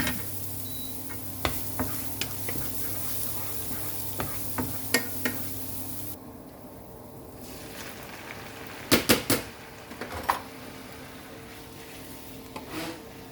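Minced garlic frying in a pan for tagliatelle with champignon mushrooms gives a steady close sizzle. Scattered clicks and scrapes from stirring come and go, with a louder cluster of knocks toward the end.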